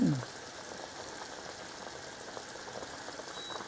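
Pork belly fries in a pot with a dense, steady sizzle and crackle, close and continuous, after a brief murmur of voice at the start.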